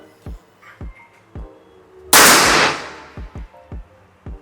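A single sharp, loud crack from an SR Extraction 500cc air rifle fired at a target, with a brief decaying tail, set among a steady series of softer, evenly spaced clicks before and after.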